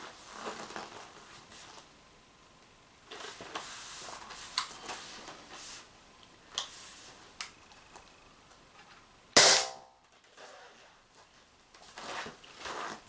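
Umarex TPX50 air pistol fired during a test, a single sharp loud crack near the end standing out over faint background clicks and handling noise.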